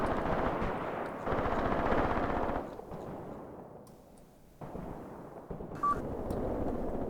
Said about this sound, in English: There comes the artillery strike.